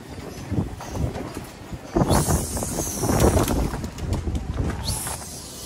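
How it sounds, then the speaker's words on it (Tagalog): Strong wind gusts after rain roar and buffet the microphone in irregular surges at a pigeon loft, with faint birds in the background. "Tumigil na yung ulan, pero malakas pa rin yung hangin"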